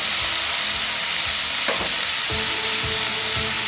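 Onions, green chili and tomatoes sautéing in a pan for Mumbai-style pav bhaji, a loud, continuous close sizzle with a brief scrape of stirring partway through and low thumps of the utensil, no voices.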